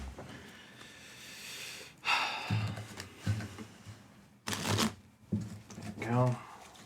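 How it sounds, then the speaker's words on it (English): A deck of Magic-style playing cards being shuffled by hand, several short riffling bursts separated by pauses, close and fairly quiet, with breathy sounds between. "And we'll give it a good shuffle."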